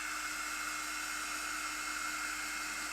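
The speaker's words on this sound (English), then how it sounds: "get the hairdryer on it super quick" A hairdryer drying watercolour paint, a steady close whirring blow that holds constant throughout.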